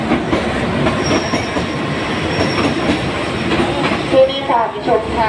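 A passenger train pulls in alongside a station platform, with loud rumbling wheels, clickety-clack rhythm and brief wheel squeals near the end, while a faint announcement runs underneath.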